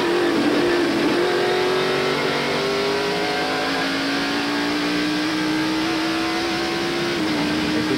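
A NASCAR stock car racing on the road course in the 1993 Save Mart Supermarkets 300 roars loudly and continuously, its engine pitch climbing steadily through a gear, then dipping briefly near the end.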